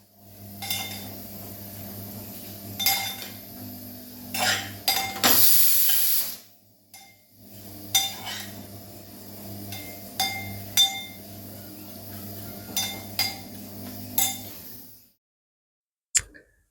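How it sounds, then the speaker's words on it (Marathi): Crushed vermicelli roasts in ghee in a pot, stirred with a utensil that clinks and scrapes against the metal in irregular strokes, with a louder burst of scraping midway and a faint sizzle underneath. "त्यानंतर तो भाजायला टाकलेला आहे आता या शेवाया चांगल्या लाल जरी भाजून द्यायच्या"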